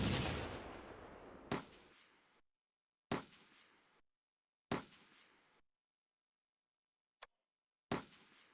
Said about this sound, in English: I put a couple of mortar rounds in to keep things interesting.